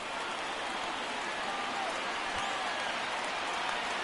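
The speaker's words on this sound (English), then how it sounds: "Not the largest crowd ever, but they're on their feet." Baseball video game crowd at the top of the ninth, a steady wash of cheering and applause like rain noise that stays even and moderately faint throughout, with no voices standing out.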